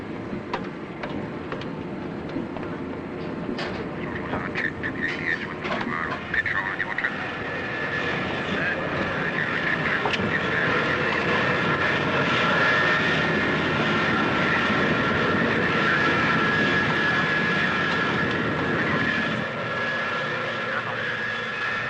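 A Concorde prototype flies a 360-degree turn at 250 knots, giving a broad, sustained jet roar that swells and holds with a faint whine, heard from a distance and continuous throughout.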